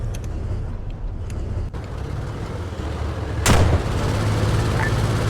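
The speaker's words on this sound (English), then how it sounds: "how many rockets? Was that like 6 or 7?" Rocket barrage slams down in the Broken Arrow war game, a sudden loud broadband crash near the middle breaking over a constant rumble of artillery and engine noise, followed by sustained low roaring.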